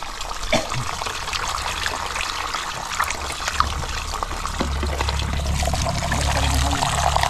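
Steady trickling and splashing of spring water, close and continuous, with faint voices and outdoor noise mixed in.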